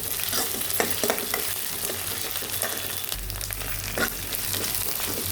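Ginger garlic paste frying with onions and cumin in a pan, a continuous loud sizzle broken by scraping stirring strokes and a low rumble of the burner.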